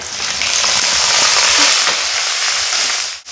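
Crushed dried fish (shutki) dropped into hot oil gives a loud, steady, close hiss of frying that carries on without a break and fades right at the end.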